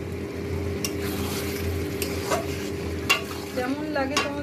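A ridge gourd, potato and poppy seed dish with green chillies simmering in a pan, giving a constant close hiss and bubbling, with a few sharp clinks and scrapes from stirring.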